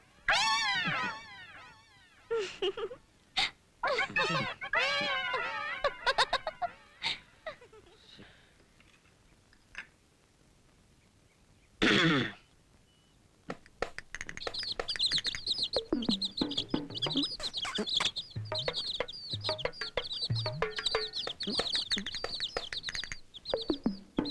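Chicks cheep and cluck in bursts, then a busy stretch of dense peeping and chirping carries on close by, with a few sharp rustles.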